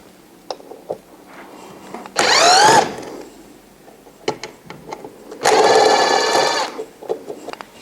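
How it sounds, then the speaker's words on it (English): A powered screwdriver backs two Phillips head screws out of the control panel on a Santa Fe Max Dry Dual XT dehumidifier: two separate loud, whining bursts that rise in pitch, with scattered small clicks and handling noises between them. "The next step is to remove these 2 Phillips head screws."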